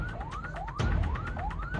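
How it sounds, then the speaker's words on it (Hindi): An ambulance siren wails as the vehicle sets off in traffic, with motorcycles cutting into its path. Rising electronic sweeps repeat steadily, loud and close, with a low engine rumble underneath and no talking. "रवाना होते हुए एम्बुलेंस ने इमरजेंसी सायरन चलाना शुरू कर दिया"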